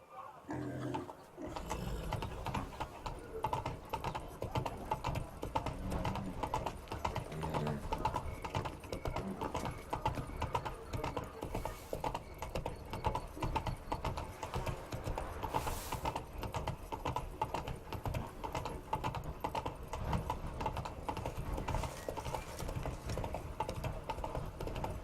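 Hooves of Roach, a horse in Witcher 3: Blood and Wine, clip-clop steadily throughout under a dense, loud game soundscape of music and ambience.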